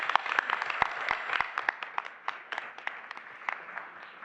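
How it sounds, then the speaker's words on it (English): An audience at a school board meeting applauds a band, with distinct individual claps ringing out sharply over a thinner, scattered round of applause in a room. "Let's give the band another big round of applause."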